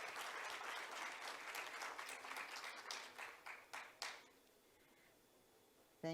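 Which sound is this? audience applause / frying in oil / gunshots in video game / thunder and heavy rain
audience applause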